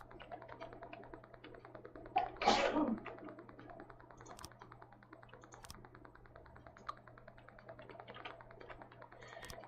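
A short, sharp sneeze bursts out once in the room, loud and brief, between steady soft computer keyboard typing and clicks.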